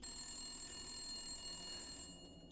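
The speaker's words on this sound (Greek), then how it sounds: "Με στοιχιώνει το τηλέφωνο των Bakers." Baker family landline ringing inside a horror video game house, a steady, continuous electronic bell ring holding through the moment before easing off slightly at the end, with no talking.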